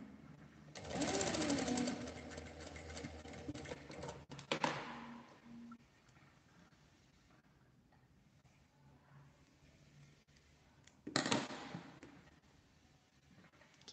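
A sewing machine stitches the rounded flap of a DIY card and coin purse, running in a close, steady burst, then a short pause, then a brief second run.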